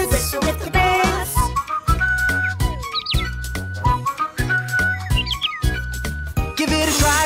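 In a children's sing-along farm song, whistling imitates birds: bright, trilling chirps and sliding tweets float over a bouncy musical backing, close and clear, with short whistled phrases repeating.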